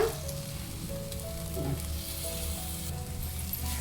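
Boiled dal is tipped into masala in a pan over a low flame for a North Karnataka dish, and it sizzles and fries in a steady, soft hiss with faint stirring scrapes. The sound is close and continuous, with no talking.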